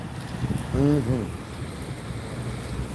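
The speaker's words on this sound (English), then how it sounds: "it's raining hard as hell right now" Heavy rain outside makes a dense, steady hiss throughout, with a person briefly murmuring partway through.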